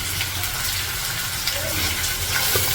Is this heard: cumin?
yes